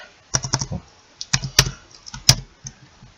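Typing on a computer keyboard, with irregular clusters of sharp key clicks in three bursts, close and distinct over a quiet background.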